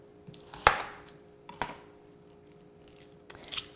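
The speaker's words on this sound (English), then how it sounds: "So for that, I am going to be using our manual food processor." A manual food processor chops a small onion in a home kitchen: three sharp, separate chopping thuds land at irregular intervals, close by, with quiet pauses between them.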